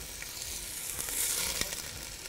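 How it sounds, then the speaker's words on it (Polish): Bell pepper and red onion fry in a pan with a steady, close sizzle and a few crackles and stirring scrapes throughout. "I całość lekko podsmażamy"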